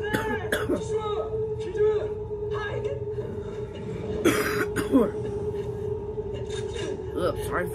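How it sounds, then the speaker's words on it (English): A person watching and reacting to the film Godzilla Minus One coughs a few times, with two harsh bursts standing out, over a steady background hum and the film's soundtrack. "Sorry for all this coughing."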